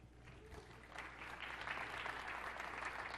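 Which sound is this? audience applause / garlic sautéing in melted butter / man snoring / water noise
audience applause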